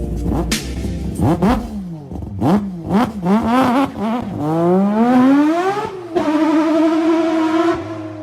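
A 2011 Chevrolet Camaro engine is revved in a string of short, sharp blips, then pulled up through a long climbing rev that drops and surges again, loud and close with no talking.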